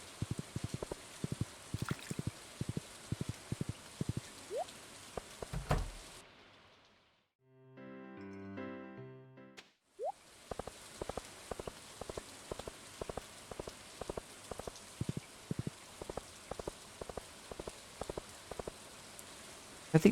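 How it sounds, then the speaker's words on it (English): Steady rain patters in a cozy autumn farming video game, dense soft hiss with scattered drips, briefly interrupted by a short musical chime jingle before the rainfall resumes. "relaxing rain was what I needed today"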